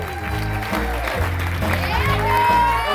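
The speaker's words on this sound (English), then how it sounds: "Come on, give them a round of applause." Wedding guests clapping at a celebration as members of the wedding party are introduced, the applause blended with loud music and voices in the room.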